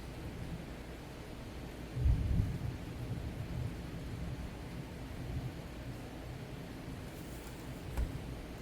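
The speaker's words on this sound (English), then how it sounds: "really hoping that this storm in the background isn't too loud and messes with the audio of stuff." Low, distant thunder rolls through steady rain-like background noise during an indoor thunderstorm, with a couple of faint rumbles and a soft crack standing slightly above the constant hiss.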